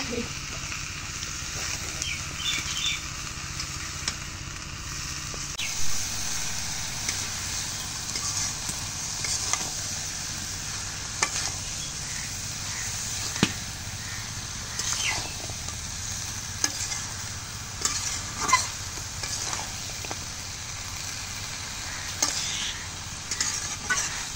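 Taro stolons, spices and turmeric being stirred and sautéed in a pan over a clay stove, with a steady low sizzle and occasional scraping clinks from the spoon, fairly quiet and without talk.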